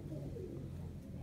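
Tippler pigeons in a fly loft give a faint, steady, low cooing that murmurs on without a break.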